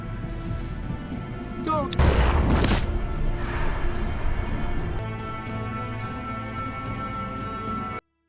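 Gunfire from a film scene in which a driver breaks into a house and shoots someone, heard as one loud, sharp blast with a booming tail over a low, steady background score.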